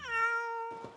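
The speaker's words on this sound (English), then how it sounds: "my kitty is stuck up on the third ball" A pet cat named Sir Fluffy Boots Mechanico, stuck high up on a course obstacle, gives one long, clear, close meow that trails off into a brief rustle.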